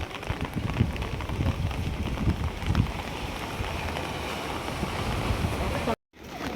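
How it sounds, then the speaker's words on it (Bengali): Rough monsoon sea waves at Digha beach make a steady, dense roar of surf and wind-driven spray that continues almost unbroken, with a brief dropout near the end. "সমুদ্র যথেষ্ট ফেঁপে উঠছে আস্তে আস্তে।"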